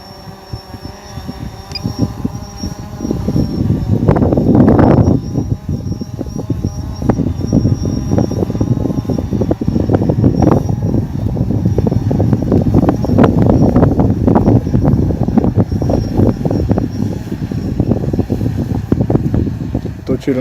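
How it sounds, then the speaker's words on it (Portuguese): Steady wind buffeting a microphone, rushing and uneven, with a low rumble and occasional stronger gusts that swell partway through. "acabou ventando bastante e ele começou a ficar instável"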